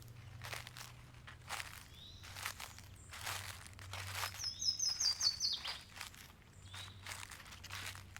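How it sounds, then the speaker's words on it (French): Forest birdsong with a short bright trill of chirps midway, moderately close, over soft crunching footsteps on dry leaves and a faint low hum, no voices. "Au-dessus de vous, c'est une symphonie de chants d'oiseaux qui s'opère."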